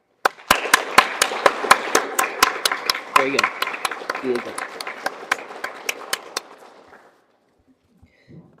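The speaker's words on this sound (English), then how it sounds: "Please join me in thanking them with a round of applause." Middle school audience applauding at a National Junior Honor Society induction ceremony, a run of loud sharp claps with echoing pops that slowly thins and stops, with people talking briefly over it.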